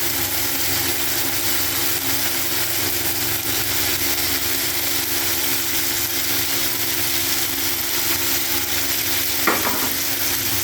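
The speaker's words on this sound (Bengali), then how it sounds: "হালকা একটু জল দিয়ে আমি পেঁয়াজ আর টমেটোগুলোকে ভেজে নেব।" Onions and tomatoes frying with a little water in a pan, a steady dense sizzle and bubbling hiss throughout, close and fairly loud, with a brief clink near the end.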